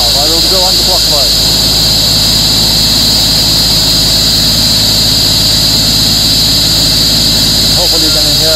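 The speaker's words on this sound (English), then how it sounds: "now I'm recording audio of that hose and the flow going through that hose" Steady hydraulic fluid rushes through a hose on a Niftylift HR28/SP85 boom lift, a loud continuous hiss and hum with a low machine drone beneath, while someone speaks briefly at the start and end.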